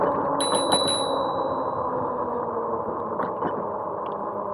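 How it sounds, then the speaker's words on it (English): Two quick bright bicycle bell rings near the start, the second trailing off, over steady rolling and wind noise from an e-bike on a rail-trail. "I got to give them a bell."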